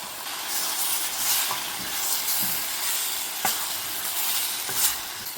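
Tomatoes added to green-tomato kavurma with pomegranate molasses sizzle steadily in a pan, a continuous broadband frying hiss with a few soft stirring scrapes, close and alone without talk.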